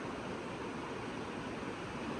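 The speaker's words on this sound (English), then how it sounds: "So that's the waterfall, guys." Waterfall in Baricho, beside a hydropower station, giving a steady, dense broadband roar of falling water that fills the scene with no pauses and no voices.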